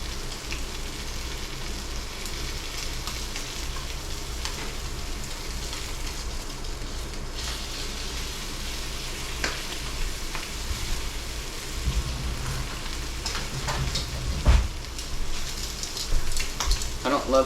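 Fatty chuck roast frying in a pan indoors, a steady crackling sizzle with scattered pops, sounding close and continuous, with faint talk in the background.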